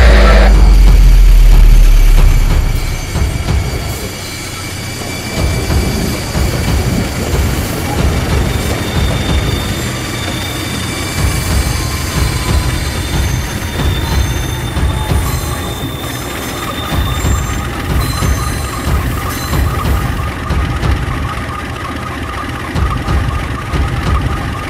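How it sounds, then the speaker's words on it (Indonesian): A second train locomotive pulls into a station, with a heavy rumbling engine, rolling rail noise and high, sustained wheel squeal continuing loudly throughout. "lokomotif kedua sudah datang."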